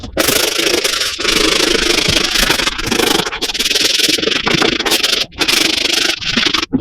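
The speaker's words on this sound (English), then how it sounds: "Then I'm applying with the regular medium bristle brush" A medium bristle brush with shoe cleaner scrubs a 30-year-old olive Air Jordan 9 sneaker, producing steady, close, loud bristle rubbing that runs almost without pause, broken only by a couple of brief gaps.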